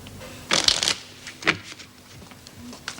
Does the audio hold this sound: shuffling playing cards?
yes